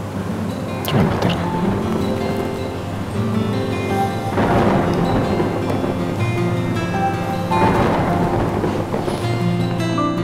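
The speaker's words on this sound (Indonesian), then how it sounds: "Gak apa-apa petir. Cuma petir." Loud thunder rumbling through heavy rain, with three rolling booms a few seconds apart over steady broadband noise and no talk.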